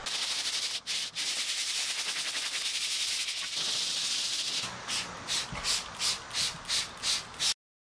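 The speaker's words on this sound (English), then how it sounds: "I've got a whole bunch of sandpaper here, so we'll just go ahead and start sanding away" Steady broadband rubbing scrape of sandpaper on a Toyota's car roof, continuous at first, then turning into a series of rhythmic back-and-forth strokes, close up.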